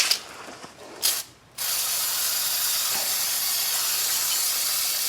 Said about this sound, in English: I'm going to brake clean that